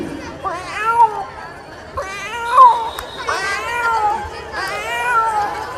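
A child imitating a cat, giving four drawn-out, wavering meows in a row with short pauses between them, up close, while other voices chatter in the background.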